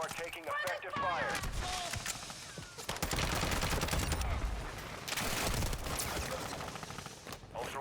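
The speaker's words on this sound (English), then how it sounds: "You are taking effective fire." Bursts of incoming automatic gunfire crackle in Call of Duty DMZ, rapid shots in clustered volleys with mechanical clatter, loud and close, while voices speak over parts of it.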